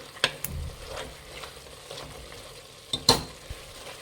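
Masala frying in a pan for sambar with a steady sizzle, while a utensil stirs and scrapes in a few sharp, close knocks until the water cooks off.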